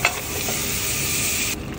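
Butter melts in a preheated saucepan while a wooden spoon stirs it for bechamel sauce, making a brief, steady close hiss of gentle sizzling that drops off abruptly at the end.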